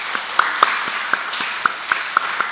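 Church congregation at a Sunday worship service gives warm applause, a soft, fairly distant wash of clapping with a few sharper claps standing out near the microphone.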